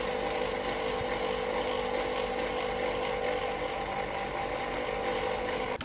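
A drill bores pre-drilled pilot holes into unclamped wood pieces for an Alpine-style bird table, giving a continuous mechanical whir for about six seconds before it cuts off at the end.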